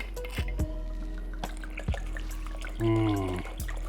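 El Jamador tequila is poured into a lime brine, giving a short liquid splash and trickle among scattered drips and small kitchen knocks.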